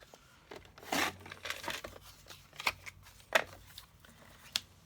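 Paper being cut corner to corner while making a songbird card from a single sheet: quiet, irregular crisp rustles and crinkly bursts, one stronger swipe near the start, with no talking.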